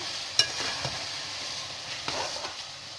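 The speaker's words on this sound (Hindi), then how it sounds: "इसको थोड़ा सा भूनेंगे" Grated carrot being fried in a pan for gajar ka halwa, a soft low sizzle with a few light spatula clicks and scrapes, fairly faint and close with no voices.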